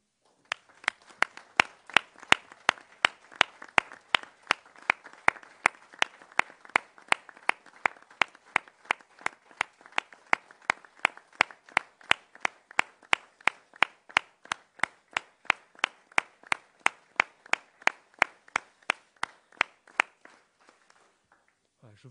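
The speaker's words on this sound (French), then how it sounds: "nous leur manifestions notre soutien en prenant quelques secondes pour les applaudir" Council members in a chamber applaud together in support of restaurateurs, a steady crowd of hand claps running for about twenty seconds before stopping abruptly.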